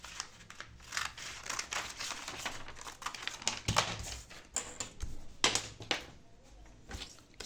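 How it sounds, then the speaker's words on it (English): Scissors snip through craft material while trimming away excess pieces for handmade women's slippers, a run of close, crisp cuts with crinkling of the sheet between them, no voices. "Let me cut the other part that I don't need away."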